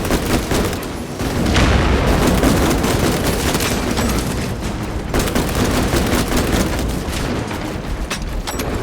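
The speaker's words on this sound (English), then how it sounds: "Crack grenade out!" A crack grenade going off in the Warhammer 40k shooter Space Marine 2 amid a dense, loud battle: continuous booms, blasts and rapid gunfire crackle fill the whole stretch with no clear pauses.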